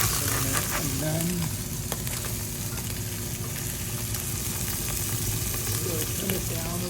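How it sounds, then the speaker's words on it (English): Garlic and trout sizzle steadily in a cast iron pan, a close, continuous crackling fry with soft clinks of stirring over a faint background hum. "turn it down so that I can get the sizzle going away a little bit"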